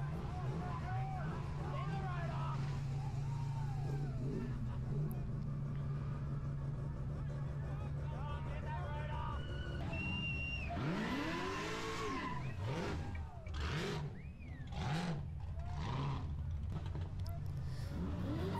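A Tow Mater car's engine idles and then revs up loudly several times at the Summernats car festival, with people chatting in the background.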